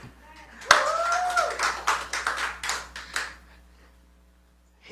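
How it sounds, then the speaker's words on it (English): A church congregation at a worship service bursts into applause, several seconds of dense, loud clapping mixed with voices and cheering, which fades into quiet. "Let's give Him a big amen and a clap offering."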